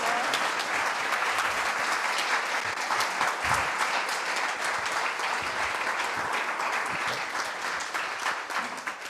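An audience applauds steadily for several seconds, a dense, even wash of clapping from a room full of people with no voices over it.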